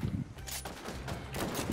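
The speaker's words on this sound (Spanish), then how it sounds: "Están disparando al otro team" Video game gunfire crackles in quick broadband bursts, a few volleys in under two seconds, fairly quiet and blended with other game noise.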